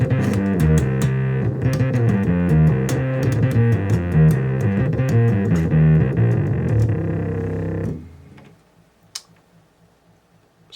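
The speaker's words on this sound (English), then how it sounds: "Fuzz bass." A bass guitar plays through a fuzz bass distortion patch on a Boss GT-10B multi-effects unit, thick buzzing notes in a steady riff that stop abruptly, leaving faint clicks and low hum.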